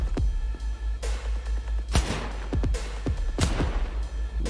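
A handful of separate gunshots ring out in the video game Cyberpunk 2077, spaced unevenly over a pulsing low background drone, each crack sharp and fairly loud.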